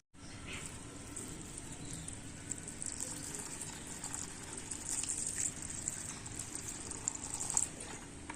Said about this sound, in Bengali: তো এখন এই চালটাকে ভালো করে আমি ধুয়ে নেব।